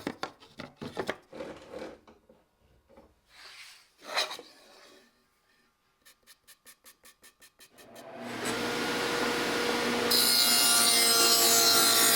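Dado blade stack on a table saw cutting wood: first scattered knocks and handling clicks, then a rapid ticking as the blade spins up, then a loud, sustained whining cut that keeps building toward the end.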